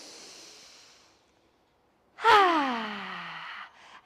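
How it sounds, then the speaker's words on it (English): A close, quiet inhale during a beginners yoga class trails off into silence, then a loud voiced sighing exhale falls in pitch and fades. "Inhale. Exhale."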